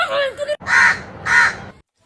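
A crow perched overhead gives two loud, harsh caws close by, each a short rasping burst separated by a brief pause, with a voice heard just before them.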